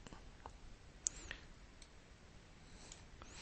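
A single sharp, faint mouse click near the start, followed by a couple of softer ticks against a quiet room hiss, with no voice.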